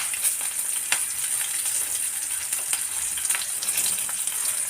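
Small onions fry in oil for a vatha kulambu, producing a continuous bright, crackling sizzle, close and even, with faint stirring ticks and no voices.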